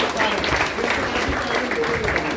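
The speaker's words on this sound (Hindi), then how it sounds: "तालियां" A seminar audience breaks into loud, dense applause, steady clapping that fills the whole stretch, with voices speaking over it.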